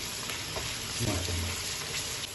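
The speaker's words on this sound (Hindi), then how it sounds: "अब इसमें लहसुन अदरक का हमने जो कूटा हुआ ये डाल देते हैं और इसकी अच्छी तरह भुनाई करते हैं" Steady, loud sizzling of crushed garlic-ginger paste frying in a hot pan for a cauliflower and meat curry, a continuous crackle with faint stirring underneath.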